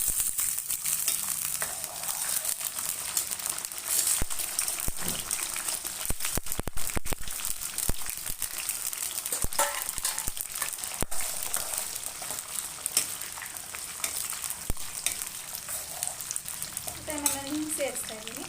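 Peanuts, chana dal and urad dal frying in a pan for gozzu avalakki, a steady soft sizzle with intermittent crackles and occasional stirring scrapes throughout, no voices.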